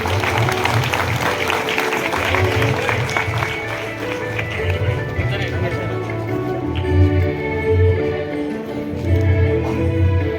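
Applause at a state sculpture award ceremony honoring a recipient, steady moderate clapping from the audience with low rumbling hall noise and occasional murmurs beneath it.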